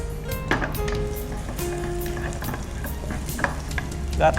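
Garlic frying in a pan sizzles steadily while a utensil stirs and taps against the pan in irregular clinks and scrapes, close and fairly loud, with no voices.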